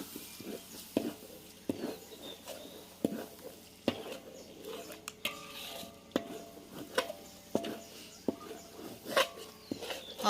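Homemade Thai curry paste is stir-fried in a pan, with repeated scraping and tapping strokes of a spatula over a faint background sizzle, fairly quiet and close.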